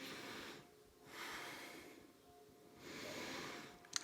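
Slow, steady breathing during a yoga hold, with two soft breath cycles rising and falling close to the mic, quiet and unhurried.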